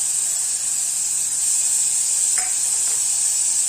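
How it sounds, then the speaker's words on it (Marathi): Cut ridge gourd pieces sauté in oil for a lentil amti, producing a steady, close hissing sizzle throughout, with a faint brief clink of stirring partway through. "गिलकेच्या फोडी ज्या आहेत त्या कापलेल्या त्या टाकून घेऊया आणि चांगले परतून घेऊया तेलामध्ये"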